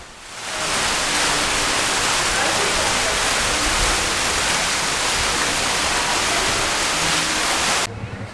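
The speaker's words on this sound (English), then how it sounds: "look, guys, fountains" Water fountains splashing at Disney's Riviera Resort, a loud, constant rushing hiss that fades in and then holds steady close by, with no breaks.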